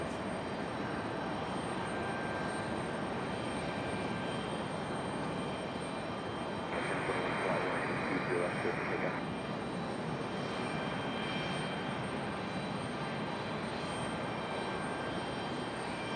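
An Icelandair jet pushes back and starts moving at Raleigh-Durham airport, heard as a steady, distant engine roar and whine that swells briefly midway, with no talking.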